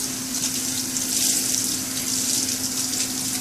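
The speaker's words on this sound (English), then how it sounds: "Just go ahead and rinse it again, same as before" Water runs steadily from a tap to rinse a freshly tie-dyed shirt, a continuous close splashing gush with a faint steady hum underneath and no talk.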